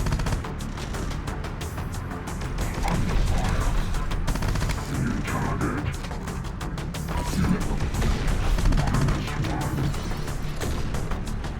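Sustained gunfire against a tank in the video game Terminator Dark Fate: Defiance, a dense continuous rattle of shots and impacts with heavy rumbling underneath, loud throughout the whole stretch.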